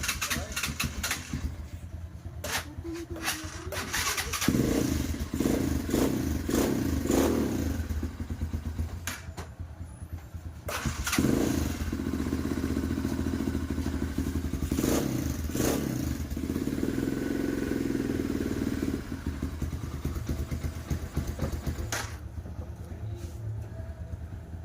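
A Rusi KR250 motorcycle engine runs close by with a loud, steady mechanical drone and clatter, swelling with occasional revs throughout.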